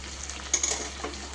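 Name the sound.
poha being stirred and fried in a pan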